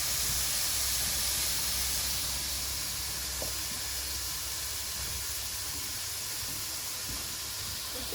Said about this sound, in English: I'm gonna put just a little tip of water just to start the steaming process.